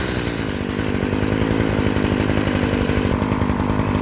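A Stihl FS 56 RC weed eater's small two-stroke engine idles steadily after starting, a loud, close, buzzing drone with a rapid rhythmic putter and no talking.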